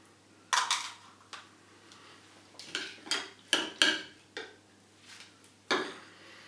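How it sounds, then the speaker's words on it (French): Homemade bird food of seed and margarine is spooned into a pot in short, separate bursts, each a close clink and scrape of utensil against the pot, with quiet gaps between them. "et ensuite, on remplit avec le mélange"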